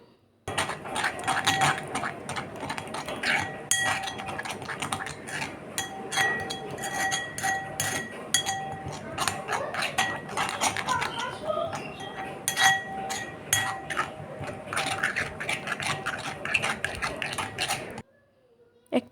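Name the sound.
stirring spice paste with gram flour in a bowl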